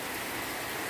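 Rain falls in the Bahian sertão during an afternoon thunderstorm, a dense, even hiss of drops lasting about a second with no voices.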